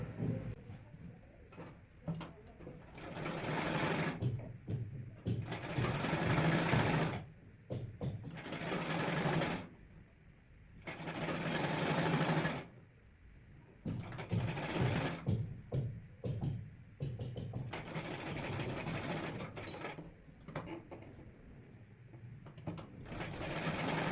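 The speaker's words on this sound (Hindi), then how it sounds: "फोल्ड करते हुए इस पर सिलाई लगा दूंगी।" A sewing machine stitches a half net collar blouse, running in repeated bursts of rapid mechanical clatter separated by short pauses, close and fairly quiet.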